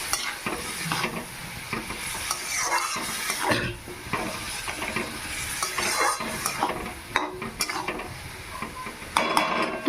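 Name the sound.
stirring snail curry in a pan after adding water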